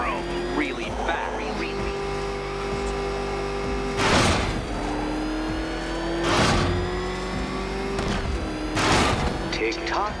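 Batmobile from the Batman Arkham Knight video game, engine holding a steady hum punctuated by three loud bursts of revving or boosting roughly every two and a half seconds, with in-game sound effects layered around.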